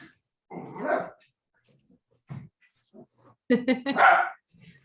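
Dogs give short, scattered barks, yips and whimpers at close range between pauses of quiet, ending in a loud cluster of barking. A voice is heard briefly among them.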